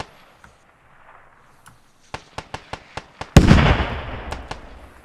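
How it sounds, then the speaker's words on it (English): Rapid string of sharp pops from an RPG rocket launcher in the military shooter Squad, about six quick cracks ending in one loud blast with a long rumbling tail, heard alone with no talk. "I've got another RPG. I'll use that."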